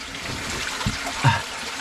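Water trickles and dribbles along a creek inside a cave, soft gurgles with a couple of brief splashy bursts, close and fairly quiet.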